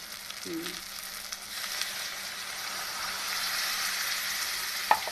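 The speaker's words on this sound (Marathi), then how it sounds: "चला मस्तपैकी आता पाणी टाकून घेते मी हे वाटणाचं" Ground masala paste water poured into a pan of frying stuffed brinjal, a soft sizzle that swells into a broader hiss partway through, with a brief clink near the end; fairly faint and without talk.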